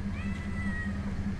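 A kitten gives a single faint, drawn-out meow over a constant low rumble in the background.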